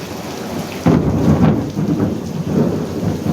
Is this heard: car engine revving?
no